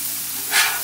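Smash burgers frying on a griddle, a steady close-up sizzle and hiss that swells briefly.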